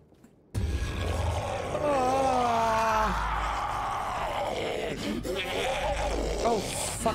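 A goat in the slaughterhouse horror game Devour lets out loud, wavering bleats that swell into groaning cries, with voices talking over it.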